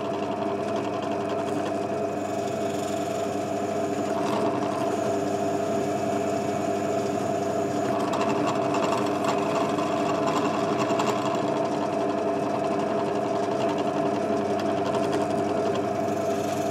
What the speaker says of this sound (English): we're going to head over to the drill press and we'll drill out all our holes